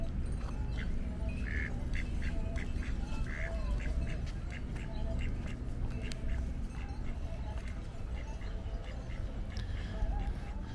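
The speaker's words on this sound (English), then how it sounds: "This is a duck." A duck at a harbor quacks repeatedly nearby, short nasal calls scattered over steady outdoor background noise, with faint voices and other ambient sounds underneath.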